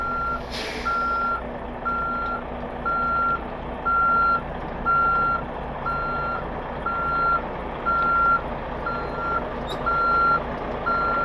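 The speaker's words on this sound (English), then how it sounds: "So I'm going to slowly back up." A truck slowly reversing toward a hitch, its backup alarm beeping in a steady, evenly spaced series of about a dozen tones over a constant low engine rumble.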